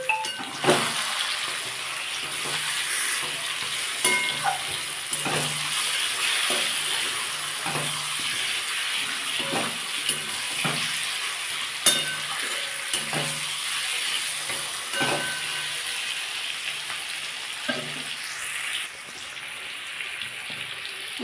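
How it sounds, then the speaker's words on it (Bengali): Marinated chicken goes into a pan of cooked-down masala for coriander chicken kosha, frying with a continuous sizzle and recurring scraping stirs, fairly close and steady, with the sizzle easing slightly near the end. "আমি এবার ম্যারিনেট করা মাংসটা এর মধ্যে দিয়ে দেবো।"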